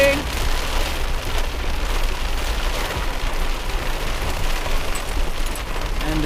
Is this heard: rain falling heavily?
yes